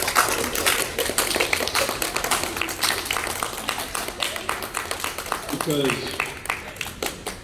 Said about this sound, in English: I want to give Callum a huge round of applause for his bravery